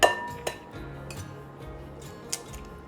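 Raw eggs are cracked by rapping them against a hard edge, giving a few sharp, isolated clinks spread over about three seconds, with a soft kitchen hum between them.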